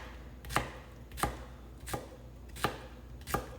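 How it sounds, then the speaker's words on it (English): Garden okra sliced into discs with a knife on a cutting board, five crisp even chops about two thirds of a second apart, close and clear with no talk. "So I'm just basically going to just cut these into little discs"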